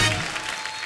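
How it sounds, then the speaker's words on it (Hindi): A studio audience on The Kapil Sharma Show claps in a short, dense burst of applause that stays fairly loud and even for under a second. "ठोको ताली, ठोको ताली"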